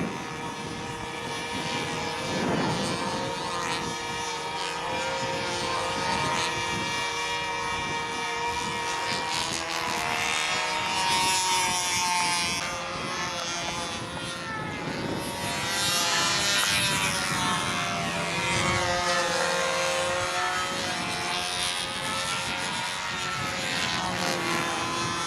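A control-line model airplane engine flies circles overhead, a continuous high nasal whine that rises and falls in pitch as the plane swings nearer and farther.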